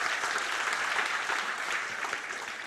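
A church congregation at a Sunday worship service claps together in steady, dense applause that fills the room for nearly three seconds, with no other voices above it.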